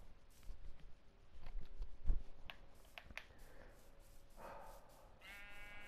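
Sheep in the Minecraft video game bleat faintly amid quiet in-game clicks and thuds, with a clearer wavering bleat toward the end.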